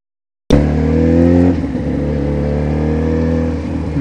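At a motorcycle meet at a church, a motorcycle engine starts abruptly and settles into a loud, close, steady idle with a brief rise in revs, leaving the mechanical hum droning to the end.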